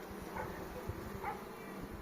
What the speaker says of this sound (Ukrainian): Бджола, гляньте, яка купа бджоли.